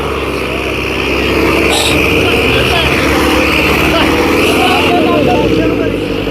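A Sonalika tractor engine drones steadily and loudly while pulling a trolley through dug-up soil at a trolley-pulling contest, with voices mixed in over the rumble.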